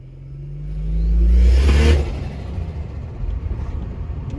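A VL Turbo car fitted with a new twin plate clutch accelerates hard on a test drive, its engine revving up loudly then dropping back to a steady driving rumble.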